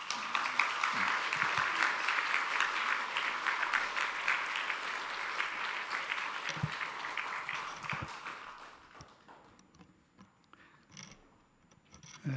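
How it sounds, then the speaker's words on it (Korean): Church congregation applauding the senior pastor at a Sunday morning worship service, dense sustained clapping for about eight seconds that thins into scattered claps and fades to near silence. "우리 목사님 나오실 때에 또 격려와 감사의 박수 한번 드리겠습니다"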